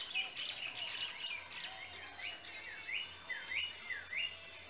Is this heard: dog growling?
no